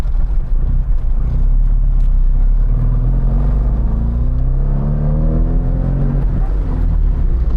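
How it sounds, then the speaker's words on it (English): A 1987 Austin Mini 1000 with its small engine pulling hard under heavy throttle while driving, a loud, close, continuous rumbling drone that climbs steadily in pitch through the gears. "It's a little motor, you gotta give it a lot of gas."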